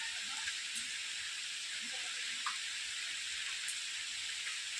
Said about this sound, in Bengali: আবার বৃষ্টি চলে এলো